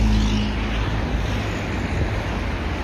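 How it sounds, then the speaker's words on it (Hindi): Strong wind and choppy sea waves on the seafront in Baku, near the Baku Eye Ferris wheel, making a steady, loud, roaring wash of noise with gusty microphone rumble throughout and no pause. "काफ़ी ज़्यादा तेज़ हवा चल रही है, तेज़ हवा की वजह से समुंदर में भी काफ़ी लहरें बन रही हैं"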